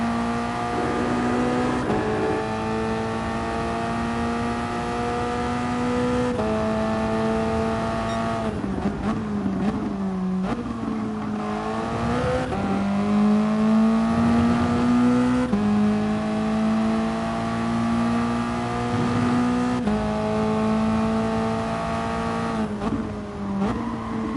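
Engine of a race car in a racing video game, a loud continuous tone that climbs and drops through gear changes and throttle lifts, steady and close throughout with no voices.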